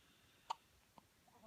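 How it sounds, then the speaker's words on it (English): A newborn baby boy, about three days old, gives a single sharp hiccup near the middle, then a couple of fainter small sounds, in an otherwise quiet room. "somebody's got a hiccup"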